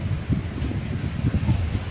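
Train rolling into Ochira station in Kerala on the Kollam–Alappuzha line, a steady low rumble of wheels and carriage heard from inside, close and continuous, with a faint high whine above.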